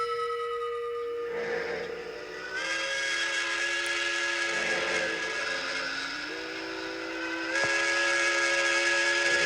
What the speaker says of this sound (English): The long, lonesome wail of a steam whistle.